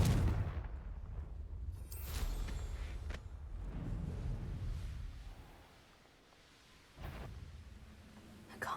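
Confringo fire spell blasts in a Hogwarts video game: several heavy booming bursts land a few seconds apart, each with a rumbling tail, then a quieter gap before a final sharp blast.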